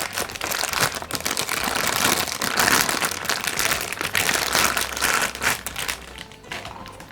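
Close, continuous crinkling and rustling of a polythene bag being taken off a Hikvision 5MP dome camera from its box, steady and fairly loud for several seconds before easing off near the end.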